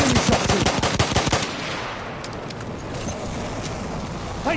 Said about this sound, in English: That's an enemy shot, too.